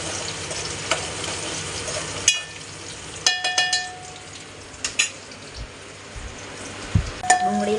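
Onions with salt sizzle in a pan in a steady low fry, punctuated by a few sharp metallic clinks of a spoon against the pan.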